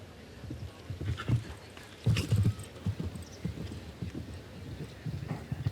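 Hooves of a show-jumping horse at a Nations Cup event in Falsterbo, a rhythmic clip-clop with soft thuds across an open arena, moderately near with faint background ambience.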